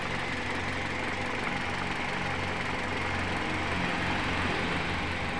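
A Toyota Altis engine idles steadily at close range, a continuous low rumble with a faint rhythmic knock and no voices; the car has a fault causing engine stutter on bumpy roads and a flickering check-engine light.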